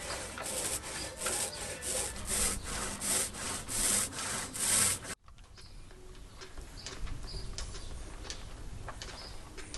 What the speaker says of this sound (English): I was just bored of sanding.